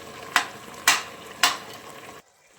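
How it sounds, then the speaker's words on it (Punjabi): Softened, cooked carrots are mashed with a spoon in a pan over low gas, giving three sharp, close scraping knocks about half a second apart over a faint sizzle. Then it goes abruptly quiet. "ਆਪਾਂ ਗਾਜਰਾਂ ਨੂੰ ਚੰਗੀ ਤਰ੍ਹਾਂ ਇਹਦੇ ਨਾਲ ਚਮਚ ਨਾਲ ਇਸ ਤਰੀਕੇ ਨਾਲ ਸਾਰਿਆਂ ਨੂੰ ਮੈਸ਼ ਕਰ ਲਿਆ"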